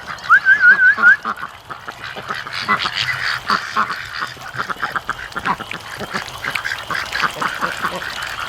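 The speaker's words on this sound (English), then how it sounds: "The ducks were following Doug down there." A burst of loud quacking opens, then softer duck chatter and rustling movement continue steadily in the background.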